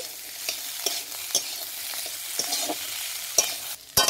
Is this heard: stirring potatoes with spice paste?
yes